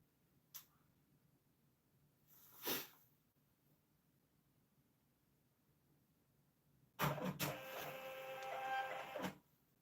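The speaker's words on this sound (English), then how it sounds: "You know how awesome it is to hear that printer actually works?" A small label printer prints a shipping label, first a few faint clicks and a brief whir, then a louder two-second mechanical feed and buzz near the end, close by in a quiet room.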